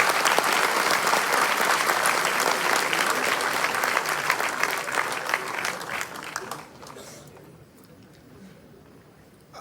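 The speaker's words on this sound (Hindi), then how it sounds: "जोरदार तालियों के साथ स्वागत कीजिए।" Loud, dense audience applause at a welcome ceremony for a minister, with a honoured guest presented a shawl, bouquet and memento; clapping sustains steadily for about six seconds, then thins and fades to scattered claps.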